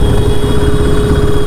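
A Royal Enfield Himalayan 450 motorcycle engine runs loud and close in city traffic, a steady low throb with a faint rising note, with no voices over it.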